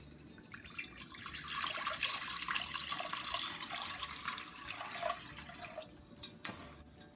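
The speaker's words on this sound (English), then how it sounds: "In my large pot, I got the fire over high heat and we're going to add in 4 cups of water." Water poured into a large pot over a high flame runs in a steady splashing stream for several seconds, close and fairly quiet, tapering near the end, with no talk.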